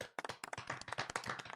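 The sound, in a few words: golf clap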